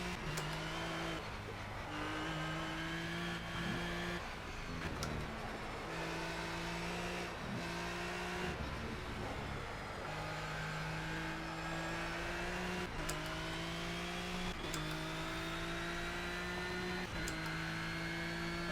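A Renault RS.01 race car engine in the Project CARS racing game revs hard and steadily, its tone climbing and dropping with repeated gear shifts. The engine is close and continuous, and no one speaks.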